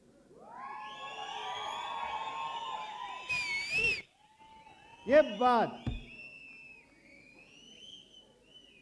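Shrill, wavering whistles from an audience come in a few bursts, with people talking loudly between and over them.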